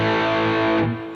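A sustained electric guitar chord with warm, vintage-sounding distortion rings out loudly, then fades slightly as it decays.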